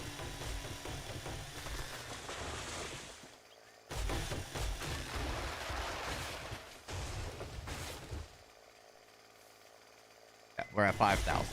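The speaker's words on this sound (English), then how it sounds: "And it takes no time at all to get wood with the chainsaw" A chainsaw cuts wood in the survival game 7 Days to Die, with loud, harsh buzzing bursts separated by brief silent gaps and a final short burst at the end.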